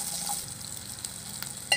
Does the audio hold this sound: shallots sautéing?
yes